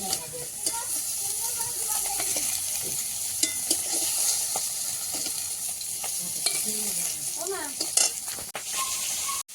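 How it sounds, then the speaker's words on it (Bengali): Bhetki fish frying in a pan, a steady broadband sizzle with occasional clinks and stirring scrapes, close and continuous for the whole stretch with no talk. "এখন মাছ কিছুটা ভাজতে দিয়েছি, একটু ভালোভাবে ভেজে নেব।"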